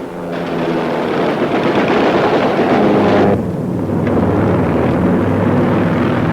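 Returning WWII bomber squadrons roar overhead in 1943: a loud, dense, continuous drone of propeller aircraft engines, broad and rumbling, swelling slightly before easing.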